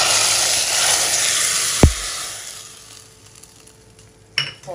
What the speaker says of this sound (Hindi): ये देखो ये तड़का है, अब इसको हम इसमें डाल देंगे।